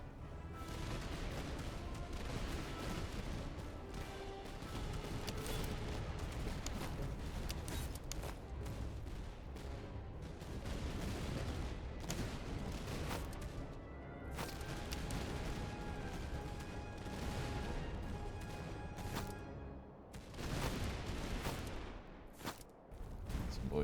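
Artillery and musket volleys boom and crackle without pause through a Master of Command battle in the Prussian campaign, a dense, continuous barrage of overlapping shots and blasts at moderate distance.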